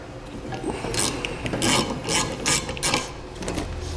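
Hand-turned tap rasping and grinding through the bolt-hole threads of a truck frame cross member on a 2015 GMC Sierra, with repeated short scraping bursts and ratchet-like clicks at close range, no talking.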